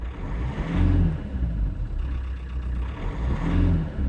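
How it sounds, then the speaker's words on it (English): A car engine with faulty injectors on cylinders one and four idles steadily, a low rumbling drone that swells and eases in gentle waves, close and alone. "the engine is running fine."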